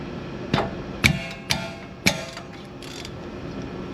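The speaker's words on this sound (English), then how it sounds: "I'm just kind of loosening them up right now." Lug bolts on a Jeep Wrangler JK wheel hub being loosened with a wrench, giving four sharp metallic clicks and knocks spaced about half a second apart, close by and with no talk.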